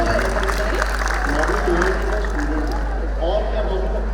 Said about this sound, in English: please welcome Mr. Anubhav with thunder of applause